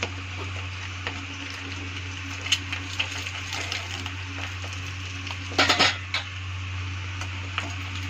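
Utensils clatter against a pan as a fried egg is lifted out, a few sharp metallic knocks with a brief cluster of scraping clinks over a steady background hum.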